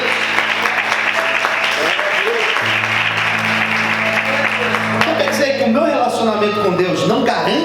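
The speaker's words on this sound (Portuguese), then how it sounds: "Você pode aplaudir o Senhor?" A church congregation at a Portuguese-language worship service applauds throughout, a sustained mass of clapping mixed with voices and steady sustained tones, growing busier toward the end.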